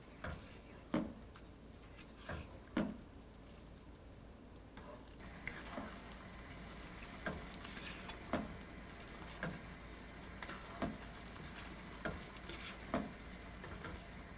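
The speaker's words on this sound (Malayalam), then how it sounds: "1/2 കപ്പ് ഹെവി ക്രീം, 2 പച്ചമുളക് എന്നിവയിട്ട് മിക്സ് ചെയ്തതിന് ശേഷം 7 മിനിറ്റോളം ലോ ഫ്ലെയിമിൽ വെച്ച് കുക്ക് ചെയ്യണം" Chicken tikka masala with half a cup of heavy cream and two green chillies cooking over a low flame: a spoon stirs the pot in regular strokes over a soft, steady sizzle, with no talking.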